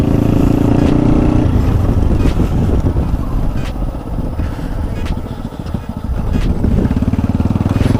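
A Honda Wave 100 motorcycle being ridden, its engine droning loudly and steadily up close with rising and falling revs and wind rush.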